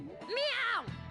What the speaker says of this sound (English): Did I just hear a cat just now?